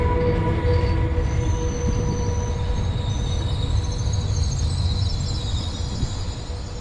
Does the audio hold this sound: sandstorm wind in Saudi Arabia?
no